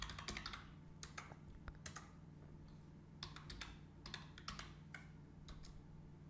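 Quiet typing on a computer keyboard, short bursts of rapid key clicks separated by brief pauses over a low steady hum, close and faint.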